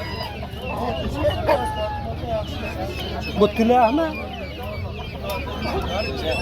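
Roosters and hens at a busy poultry bazaar in Namangan, with repeated clucks and crowing-like calls amid crowd chatter and nearby talking voices.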